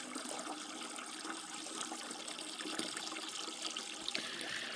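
Well water runs steadily from a garden hose outdoors, a faint, continuous rushing trickle with no talking over it.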